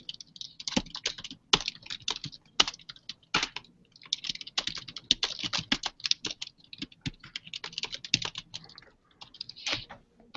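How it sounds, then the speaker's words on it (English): Fingers type quickly on a computer keyboard, a dense, uneven patter of close, crisp key clicks that carries on steadily with no pauses and no talking. "I'm just typing stuff."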